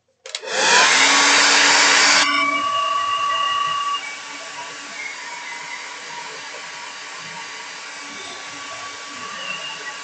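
Hair dryer drying painted sunflower circles, starting with a loud close whoosh that then drops to a steadier, softer blowing hum, with faint background sounds.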